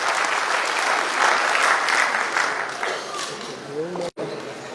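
An audience applauds steadily at a community event, welcoming a guest speaker, with dense clapping that starts to fade near the end before a brief cut. A voice is faintly audible beneath it.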